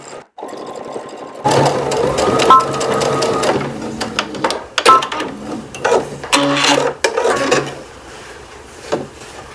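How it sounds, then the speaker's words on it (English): A sewing machine runs a quarter-inch seam with a backstitch along the curved edge of a fabric ruffle for a turtleneck dress, in close rattling bursts of stitching broken by short pauses. "Now go to your machine and do a 1/4 inch stitch across the curved edge."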